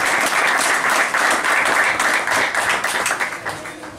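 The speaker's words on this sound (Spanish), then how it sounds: "Empezaré con un gran aplauso." An audience applauds at the Godoy Cruz team kit presentation, with dense, energetic clapping sustained throughout that thins slightly toward the end.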